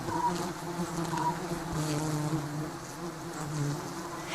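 A dense, steady buzzing of many Asian honeybees close by in Sri Lanka, a continuous humming drone with no pauses.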